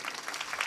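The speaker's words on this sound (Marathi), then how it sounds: "टाळ्या वाजवा ना जोरदार" Audience applause at a Marathi kirtan devotional performance: a dense, steady wash of many hands clapping together, fairly loud and with no voices over it.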